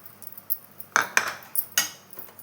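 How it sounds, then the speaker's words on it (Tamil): A spoon scrapes and clinks against a pan as one cup of semolina roasts in a little ghee over a low flame for rava kesari, giving sparse, close, metallic taps with no talking. "இப்போது இதை நல்லா வறுத்து எடுத்துக்கலாம்"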